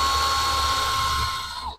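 A power drill whirs steadily while boring a hole for blind rivets in a fabrication job, a close, continuous high whine that winds down and stops at the end.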